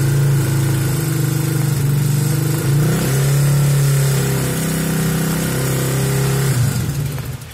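Honda GL100 motorcycle engine with a full-wave ignition and charging stator coil, running loud and close as the revs climb and hold a steady higher pitch before easing back down.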